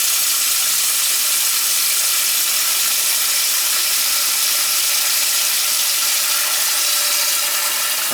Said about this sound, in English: I'm going to put in a lot of water.